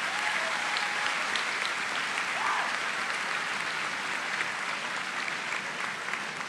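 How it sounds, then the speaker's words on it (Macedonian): An audience at a political youth gathering claps in a dense, sustained burst of applause that stays loud and even for several seconds. "Еден аплауз за слоганот"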